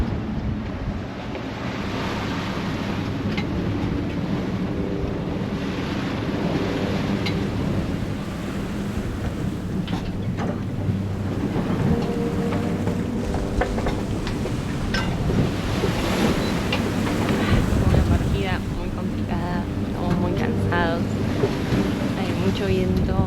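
Strong wind buffets the microphone while waves surge and splash around a sailboat at sea, a loud continuous roar that rises and falls, with occasional voices underneath.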